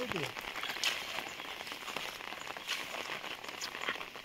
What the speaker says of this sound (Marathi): पाऊस पण मस्त पडतो आहे